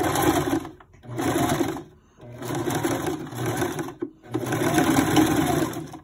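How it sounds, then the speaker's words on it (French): A sewing machine stitches close to the edge of a fabric purse, running in three steady buzzing bursts separated by short pauses, loud and near with no talk. "Je couds assez près du bord."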